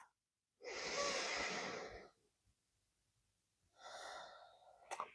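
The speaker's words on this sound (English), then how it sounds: "Big breath." A deep breath during a yoga high lunge: a long audible inhale, a pause of near silence, then a softer exhale, close and alone.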